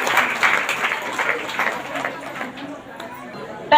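Church congregation applauding and thanking God, a sustained wash of clapping from a crowd with murmured chatter underneath, moderately loud and gradually tapering off.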